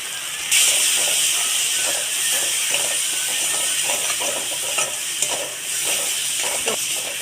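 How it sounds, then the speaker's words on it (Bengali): Chilli powder and spice paste frying and being stirred in a pan for a green banana dish, with a steady hiss and sizzle and repeated scraping stir strokes, close and continuous with no talk. "এই মশলাটা ভালো করে কষে নেবো"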